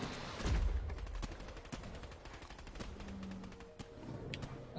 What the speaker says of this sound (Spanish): Se ven disparos.